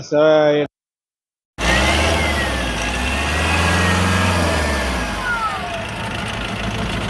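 A seven-seater car's engine idles close by after a short burst and a gap, then rises in a smooth rev and settles back, with someone speaking over it.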